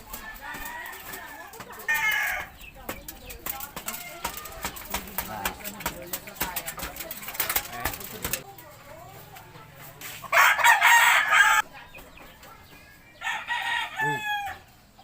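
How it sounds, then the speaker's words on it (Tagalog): A rooster crows loudly several times, with farmyard chickens clucking steadily in between, while people talk in the background. "May sisiw."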